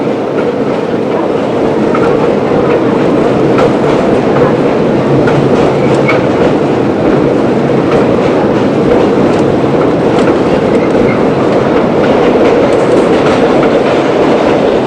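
A New York subway R40 car from around 1970 rolls past close by, a loud steady roar with rhythmic clickety-clack of wheels over rail joints sustained throughout.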